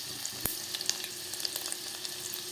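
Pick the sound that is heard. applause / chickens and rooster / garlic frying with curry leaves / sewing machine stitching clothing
garlic frying with curry leaves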